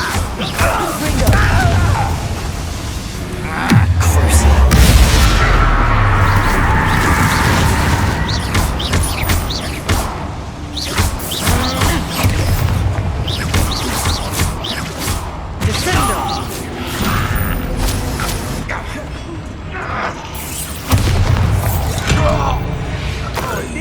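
Fiery spell explosions in the Hogwarts Legacy video game boom and crash repeatedly amid a loud, dense battle mix of impacts, shattering and clattering, with character voices and grunts throughout.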